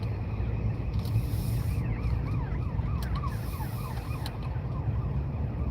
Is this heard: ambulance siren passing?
yes